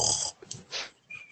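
A person imitates a character named Calduin snoring: a couple of breathy, rasping inhale-exhale snorts, close and fairly quiet, with short gaps between them.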